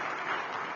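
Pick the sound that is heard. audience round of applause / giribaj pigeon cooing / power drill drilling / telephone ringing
audience round of applause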